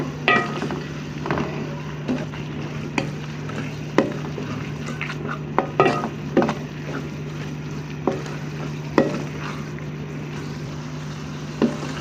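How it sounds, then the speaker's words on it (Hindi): Minced meat keema with salt, chili and turmeric roasting in a pan for aloo keema, a low sizzle under a constant hum, punctuated by scattered clicks and scrapes of a stirring spatula. "चार से 5 मिनट हो गए मुझे कीमे को मिक्स करते हुए"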